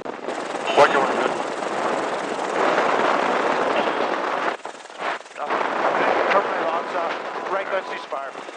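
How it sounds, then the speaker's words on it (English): A helicopter door gun fires during an aerial gun shoot, a loud, steady roar of sustained automatic fire over rotor noise, briefly dipping once before resuming. "Right gun, open fire."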